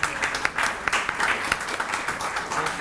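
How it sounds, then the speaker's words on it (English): An audience claps steadily at a Global Surgery Day ceremony at Sarhad University Peshawar, welcoming a speaker to the stage, with sustained hall applause and a few sharper individual claps. "With your huge claps, Mr."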